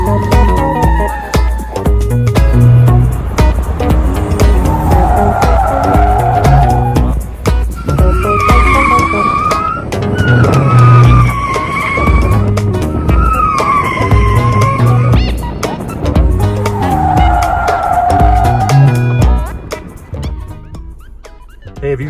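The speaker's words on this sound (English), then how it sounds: "if you've ever done a donut in a front wheel drive car" Front-wheel-drive car spinning donuts with the wheel fully cocked, tires skidding and squealing in long looping waves over a loud, steady engine roar, close and continuous for about twenty seconds.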